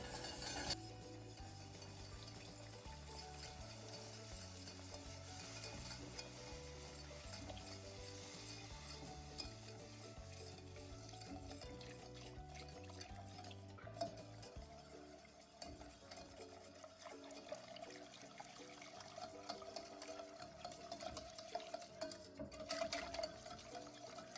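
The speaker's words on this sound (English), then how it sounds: "add your milk in a steady stream while whisking continuously so it mixes evenly" Milk streams into a flour roux for creamy chicken and rice soup while a whisk stirs continuously, a soft liquid swirl with faint metallic clinks, fairly quiet under background music.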